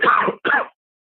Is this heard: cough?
yes